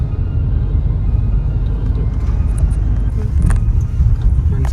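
Road traffic in a jam on a highway in Madhya Pradesh: a steady, loud low-frequency engine rumble from nearby cars with faint passing whooshes, continuous and unbroken, with no talk.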